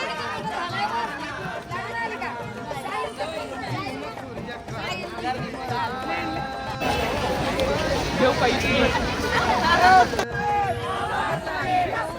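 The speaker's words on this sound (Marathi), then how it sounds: "सारी गर्दी झाली आहे." A large crowd gathers in India for a Babasaheb Ambedkar Mahaparinirvan Din commemoration, filling the air with a dense, close babble of many voices that grows louder and busier partway through.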